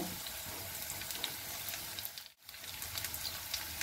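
Onion, potato and eggplant frying in hot mustard oil with black cumin, a steady close sizzle with fine crackling throughout, briefly interrupted by a short dip before resuming.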